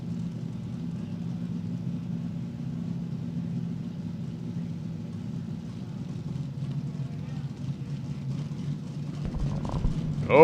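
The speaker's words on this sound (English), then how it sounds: "listen to the nitro cackling in these injected cars" Nitro-injected drag racing cars at an NHRA Hot Rod Reunion, their engines giving a steady low rumbling idle that holds throughout, with a louder burst rising near the end.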